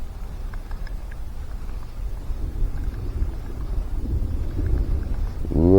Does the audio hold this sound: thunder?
yes